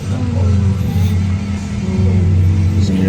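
Philippine road traffic on a congested three-lane road, with steady car and engine rumble, a vehicle revving and passing close by, and a continuous dense flow with no talking.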